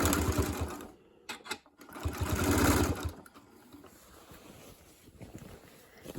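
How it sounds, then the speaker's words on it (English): A sewing machine stitches fabric binding onto the top edge of a quilt with a quarter-inch seam allowance, running as a loud whirring burst that breaks off and then resumes more quietly. "I'm going to start sewing just about right there, maybe 1 or 2 stitches from this top edge with a 1/4 inch seam allowance."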